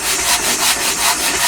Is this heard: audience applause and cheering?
no